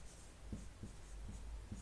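Pen strokes on paper as someone writes notes during a history lesson: a few faint, brief scratches in an irregular rhythm over a low, steady background hum.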